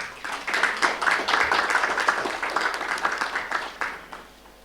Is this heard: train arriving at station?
no